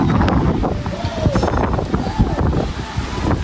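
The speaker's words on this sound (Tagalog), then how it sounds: "ngayon po ay malakas ang hangin po dito sa amin" Strong typhoon wind from Typhoon Ramil roars steadily across the microphone beside a fishpond, with broadband buffeting gusts and low rumble throughout, and faint scattered background sounds mixed in.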